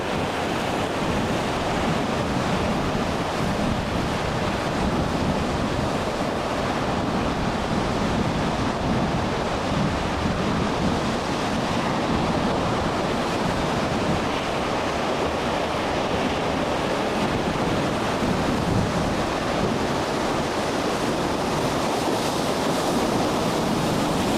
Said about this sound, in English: I thought it'd be a good idea to give you a feel for a storm.